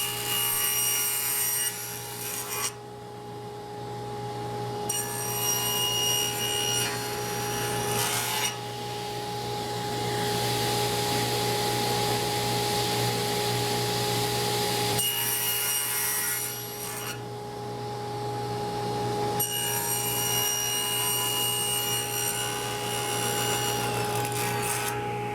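Steady rasping of a saw cutting through wood, continuous back-and-forth strokes close by with a few brief pauses, no talking.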